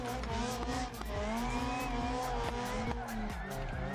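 Drift car in the BeamNG racing game, a big loud engine holding a steady high drone with rising and falling revs while tires squeal continuously through a slide, dense and close.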